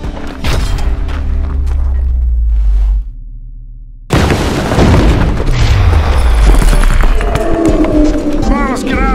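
An explosion in a dramatic short film scene, a loud close booming blast that cuts in after a brief drop, then rumbling debris and echo, with shouted voices before and around it.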